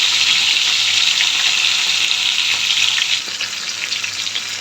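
Fish sizzles loudly in hot oil in a pan while being fried reddish for khichuri, a continuous close hiss that eases off slightly near the end, with no talking.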